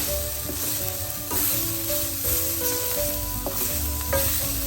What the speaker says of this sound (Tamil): உப்பை சேர்த்துட்டு எல்லாத்தையும் நல்லா கலந்து விடுவோம்